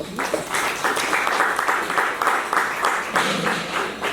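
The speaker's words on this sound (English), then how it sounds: "So I guess you guys can give yourself a round of applause." An audience claps for about four seconds, rising in bursts and holding at a moderate level, with faint voices mixed into the applause.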